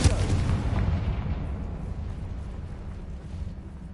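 Bombarda blasting spell in the Hogwarts Legacy game: a single heavy explosive boom that rumbles and fades out over a few seconds, with no talking.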